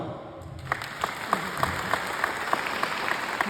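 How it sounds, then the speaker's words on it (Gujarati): An audience at a cleanliness-campaign workshop gathering claps in unison, a steady rhythmic beat of single claps roughly three per second, moderately near, with no talking over it. "ગમી તો તાળી"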